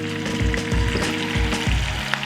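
Steak sizzling in a hot pan while being basted with melted butter, a steady loud frying hiss broken by repeated low spooning swishes at a regular pace.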